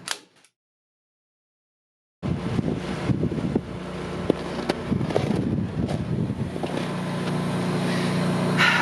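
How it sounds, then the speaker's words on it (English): Wind buffeting the outside of an unfinished off-grid dome home, a sudden loud roaring rush after near silence that keeps blowing steadily and slowly builds, close to the microphone. "We've got a bit of a wind problem"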